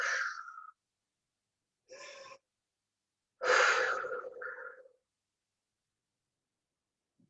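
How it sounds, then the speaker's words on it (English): Deep exhales during a breathwork session: a few close, breathy pushes of air out through the mouth, separated by silences, the last one longest and strongest with a raspy squeeze at its end. "When you think you've squeezed your breath out, exhale more."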